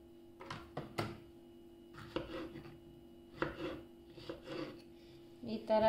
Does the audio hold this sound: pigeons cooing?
no